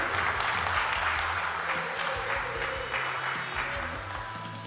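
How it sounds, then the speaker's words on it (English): A crowd claps steadily in a big space at a World Shooting Para Sport championship in Lima, the applause gradually thinning and fading over a few seconds. "And applause for the man who helps here."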